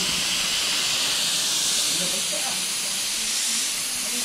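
Compressed air blasts in a continuous loud, broadband hiss from a nearby air line while a car is prepped for a repaint in a workshop, steady throughout with no pauses.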